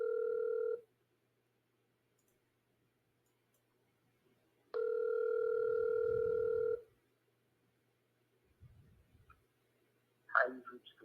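A phone call rings out before reaching voicemail, with two long steady ringback tones separated by a gap of near silence, followed by faint clicks and a brief burst of noise at the end.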